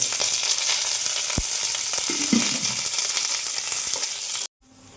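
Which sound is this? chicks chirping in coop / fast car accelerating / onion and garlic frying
onion and garlic frying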